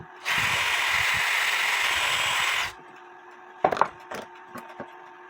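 Close, loud power drill boring deeper into a small wooden part of a Black Forest shield clock from around 1880, whining steadily for about two and a half seconds, then stopping, followed by a few light handling clicks.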